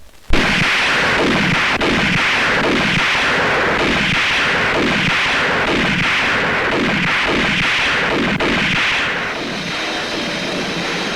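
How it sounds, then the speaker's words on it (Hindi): Rapid, sustained gunfire from a Hindi film action climax, a loud dense volley of repeated shots with echoing cracks that runs continuously for several seconds and drowns out everything else, with no voices. "गोली कहाँ चल रही है?"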